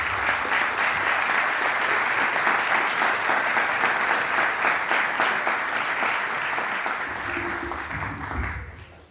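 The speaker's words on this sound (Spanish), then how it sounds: "les pido un gran aplauso" A large audience applauds loudly and steadily at a vocational training conference at UTN La Plata, dense clapping filling the room for about eight seconds before fading out abruptly at the end.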